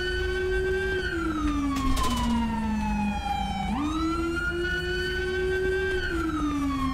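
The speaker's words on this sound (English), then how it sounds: "We get a siren, chat." A police siren wails in the FiveM roleplay game, a loud, close, continuous tone sliding slowly up and down with a brief sharp yelp partway through, heard alone without speech.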